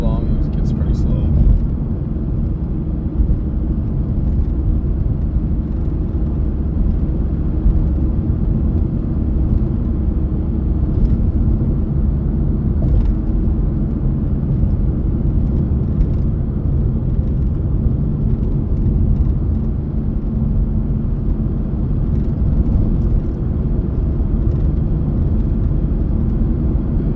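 A VW MK4 TDI diesel car rolls on in fifth gear with a constant low cabin rumble and drone as it pulls, while someone talks throughout.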